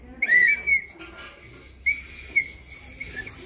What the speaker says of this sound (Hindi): सीटी बजाओ जोर से